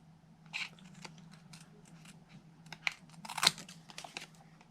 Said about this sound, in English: Okay, and then I'm going to quickly just fussy cut.